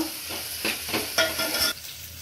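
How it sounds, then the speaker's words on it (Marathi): Onion sautéing in a pan for Karwar-style tomato saar, a close sizzle with a few rhythmic stirring scrapes, brief and alone without talking. "कांदा आपण थोडा परतून घेऊया ट्रान्सपरंट होईपर्यंत।"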